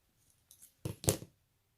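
Scissors snip away excess vinyl film while making jelly vinyl key fobs, giving two or three quick, close cutting crunches in a brief burst before quiet returns.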